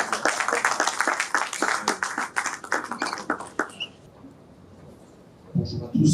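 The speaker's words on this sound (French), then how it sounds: "Sous vos applaudissements" Applause for a speaker in a parliamentary chamber: dense, sharp clapping from many hands that fades away after about four seconds, followed by a brief burst of noise at the end.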